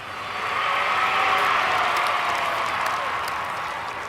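Crowds lining the streets for Queen Elizabeth applaud in a steady, distant wash of clapping that swells and holds evenly, with no clear voices.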